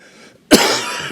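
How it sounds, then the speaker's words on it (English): A single sharp cough bursts out close to the microphone after a quiet moment, followed by a short rough exhale, in a lecture setting. "Sorry for my cough."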